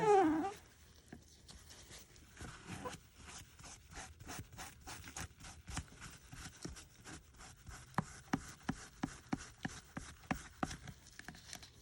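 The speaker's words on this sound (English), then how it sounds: "So I'm just gonna start wiping this off." Repeated brisk rubbing of a paper towel soaked in 99% rubbing alcohol across a small painted resin pumpkin-head piece under light pressure, giving quiet close scratchy swipes in a steady rhythm.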